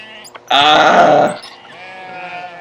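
In the video game Dialtown, a single loud sheep bleat rings out close up for about a second, followed by quieter bleating in the background.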